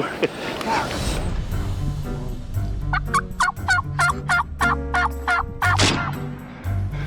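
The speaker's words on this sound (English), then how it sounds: "Well, there's the original 2 gobblers from this morning." Wild turkey gobblers gobble in a rapid, rolling burst from moderate distance outdoors during a spring hunt, under steady wind or engine rumble, while people talk quietly nearby.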